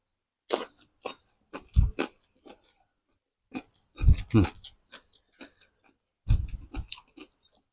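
Wet crunchy chewing and biting of papaya salad and grilled freshwater fish, close to the mic in irregular bursts with quiet gaps between mouthfuls.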